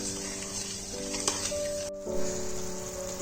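Sugar and water are stirred together in a pan on the stove, giving a soft, continuous hiss with light stirring sounds under background music.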